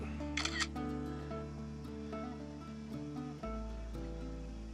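A drone camera shutter clicks once near the start, then a long exposure at ISO 1600 runs over a steady low hum before a second click closes it.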